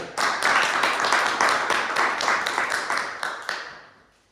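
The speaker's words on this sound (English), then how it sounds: "Please welcome him to the stage with a huge round of applause" An audience at a Toastmasters public speaking meeting gives hearty applause as a speaker comes to the stage, dense clapping that holds steady, then thins into a few last claps and fades out.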